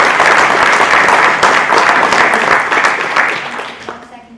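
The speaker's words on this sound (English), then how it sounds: "I want you to all give Jonathan and Victoria a round of applause" Loud, steady clapping from a large crowd, sustained for several seconds before thinning out and fading near the end.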